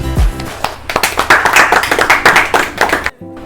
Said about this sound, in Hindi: तो जोरदार तालियों से हम इन्हें सराहेंगे